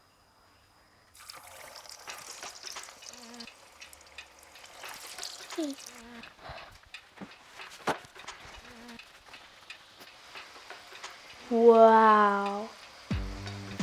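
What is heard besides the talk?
potato pieces dropped into hot frying oil, sizzling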